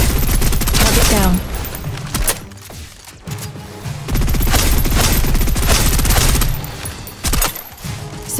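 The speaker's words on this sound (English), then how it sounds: "Suppressive fire." Sustained bursts of suppressive gunfire in the video game Snowbreak, dense rapid automatic fire with brief pauses and heavy impacts, loud and close, with faint voices mixed under the shooting.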